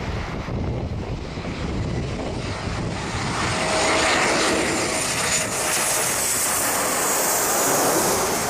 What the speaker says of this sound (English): This Embraer 190 had to make an emergency landing without its nose gear.